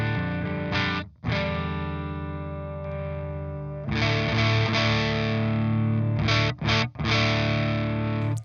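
Electric guitar run through a Tube Screamer overdrive into an amp plugin plays loud, sustained distorted chords, with a brief break near the start and a few quick chord stops later, no voices.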